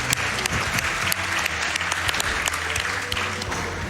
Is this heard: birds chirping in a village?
no